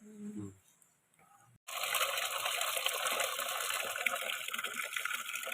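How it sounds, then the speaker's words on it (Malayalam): A steady broadband rush of running water starts abruptly after a short quiet stretch and continues loudly, with faint splashing and handling sounds underneath. "അപ്പോൾ നമ്മുടെ ഇല ഒന്ന് കഴുകിയെടുക്കാം"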